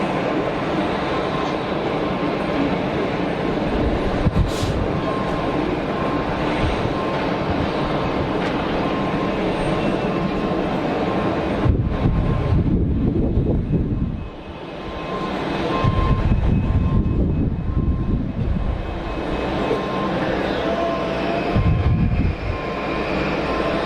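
An airliner landing at Geneva Airport with spoilers out and thrust reverser buckets deployed: a loud, broad rushing roar that swells into heavy low rumbling surges as the reversers spool up, then dies away, with no talking.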